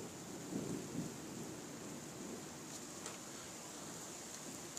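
Steady hiss of heavy rain and hail pelting down during a violent thunderstorm in Carpentras, France, with faint distant rumbles of thunder underneath; no talking.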